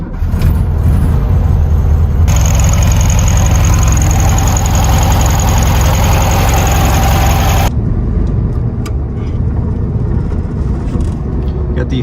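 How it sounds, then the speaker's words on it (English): A 1968 Volkswagen Beetle's 1500cc air-cooled engine, driven in the Need for Speed Nitro racing game, hums loudly and steadily throughout, with a brighter whining layer in the middle stretch. "Got the 1500cc air-cooled motor."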